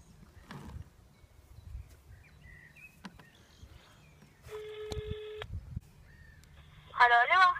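A mobile phone dials out, giving sparse keypad tones and a steady ringback-style tone, then a warbling ring near the end, all quiet and close amid faint room noise.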